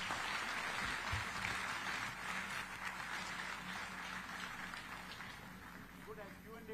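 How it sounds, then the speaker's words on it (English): Audience applause at a book launch event following a panel discussion, a steady wash of clapping from a crowd that fills the room for several seconds without letting up. "Let's have a round of applause."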